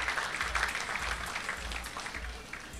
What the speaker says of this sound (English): Please, they deserve a round of applause.